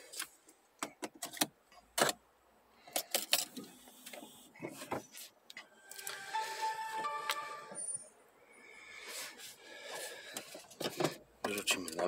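A 1998 Mercedes C280 W202 is started with its key: clicks and jangling, a short crank, then a smooth, quiet idle. Someone talks over and between the engine sounds.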